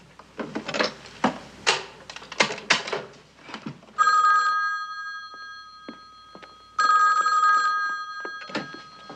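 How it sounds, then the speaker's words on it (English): A 1969-era telephone rings in two loud, steady electric bell bursts of about half a second and two seconds, following a stretch of clicking as a number is dialed directly. "It's ringing"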